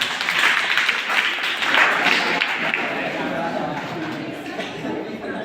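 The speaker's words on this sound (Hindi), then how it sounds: "जोरदार तालियों।" Applause from an audience at a youth festival prize ceremony, a crowd clapping steadily for several seconds with some chatter and a voice mixed in.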